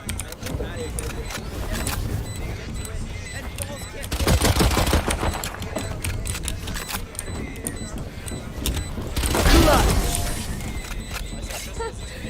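Bursts of rapid gunfire in a shooter video game, Valorant-style, crackle in two dense volleys amid scattered single shots, while people talk over the match throughout.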